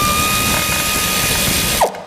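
A ratchet clicks steadily while turning the crankshaft of a Chevy Blazer during removal of its 4L60E transmission, a fast, close metallic ratcheting that runs nearly two seconds and ends with a final clunk.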